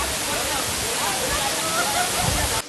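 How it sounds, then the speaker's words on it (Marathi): Nhavankond waterfall in the Konkan, running again after the first monsoon rain, gives a steady, close, dense rushing roar of falling water that holds evenly throughout and cuts off abruptly just before the end. "त्यातला एक धबधबा मी तुम्हाला दाखवतो, पहिल्याच पावसामध्ये प्रवाहित झालेला पाहायला मिळतो"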